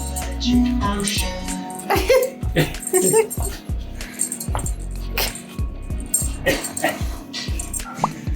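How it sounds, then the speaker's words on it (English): A puppy yaps and whimpers in short bursts while people talk nearby, with a few clinking, jangling noises in the background. "We didn't hear him bark like that until the day before you picked him up."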